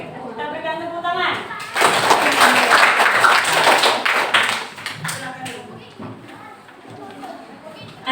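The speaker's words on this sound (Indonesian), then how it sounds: "Oke, kita berikan tepuk tangan" Classroom applause after a student presentation, a burst of clapping from a room of students swelling in the middle and thinning out, with a speaking voice before it and chatter at the end.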